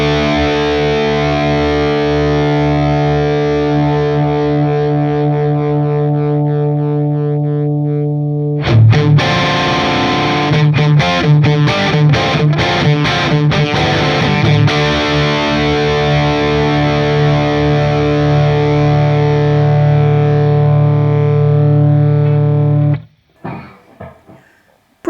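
Electric guitar played through a Laney tube amp plugin, heavily distorted and loud, with sustained chords, a burst of choppy rhythmic strumming in the middle, then ringing chords that cut off near the end; no talking.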